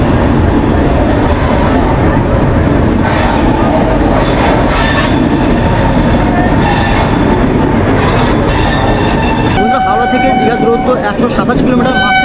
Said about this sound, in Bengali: তো এখন ট্রেনে উঠবো, উঠেই তোমাদেরকে স্টেপ বাই স্টেপ সব কিছুই দেখাচ্ছি।